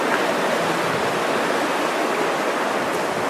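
Water of an old, well-known river in India rushes in a steady, loud, unbroken wash with no voices over it.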